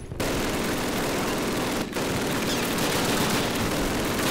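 Sustained machine gun fire from a half-track in Call of Duty, a dense, loud, continuous roar of rapid shots with a brief dip near the two-second mark before resuming at full intensity.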